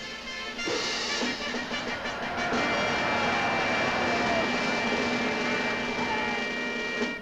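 A rocket engine sound effect from a 1955 Disney space film: a loud, continuous roar with a steady whining tone that builds after a brief start and holds without pause.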